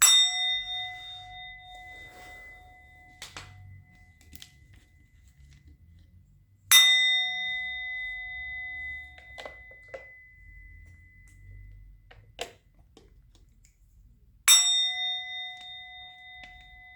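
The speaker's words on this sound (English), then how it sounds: "I'm going to ring the bell." A bell rings three times at roughly seven-second intervals, each strike a sharp, clear metallic ding with a long ringing tone that slowly fades, with faint thuds in the quiet between strikes.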